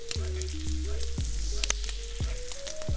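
Meat sizzles steadily as it fries in butter for Mersin-style tantuni, with a bright hiss filling the clip and soft scraping knocks from the utensil, close and moderately loud, with no talk.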